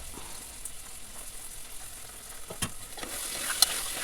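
Vegetables for annapakala curry fry and sizzle in a pan, a soft steady hiss with occasional light scrapes and clinks as they are stirred, quiet and close with no talking.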